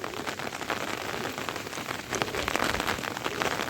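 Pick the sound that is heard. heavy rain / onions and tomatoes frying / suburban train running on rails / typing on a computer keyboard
heavy rain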